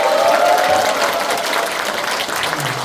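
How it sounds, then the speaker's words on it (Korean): A close, loud burst of applause fills the room at a Korean Democratic Party women's committee members' lecture in Cheongju, dense clapping that holds steady for a few seconds. "박수를 힘차게 보내주시면"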